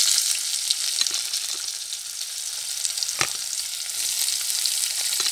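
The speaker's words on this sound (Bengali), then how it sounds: "ভাজা আলু তেলের মধ্যেই আমি কালো জিরে ফোড়ন দিয়ে দিলাম, এর মধ্যে আমি কেটে রাখা পেঁয়াজ কুচি দিয়ে দেব" Chopped onions fry in oil with black cumin seeds, in oil already used for frying potatoes, giving a steady, loud sizzle with a few sharp crackles and stirring sounds.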